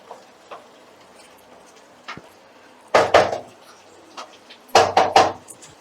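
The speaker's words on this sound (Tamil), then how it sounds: "இப்போ நல்லா சுருங்க வதங்க கிண்டுவோம்" Chicken curry masala being stirred in a pan, broiler chicken cooked country-chicken style: a spoon scrapes and clacks against the pan in sparse taps, with two louder clusters of scraping strokes close by.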